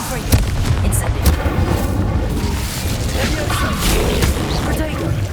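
Confringo and Incendio spell blasts cast in Hogwarts Legacy, a dense, loud stream of booming magical explosions and crackling bursts over a rumbling battle din, with a few sharp attacks standing out.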